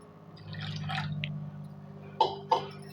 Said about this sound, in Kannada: ಇವಾಗ ನಾನು ಇದಕ್ಕೆ ಸ್ವಲ್ಪ ನೀರು ಹಾಕ್ತೀನಿ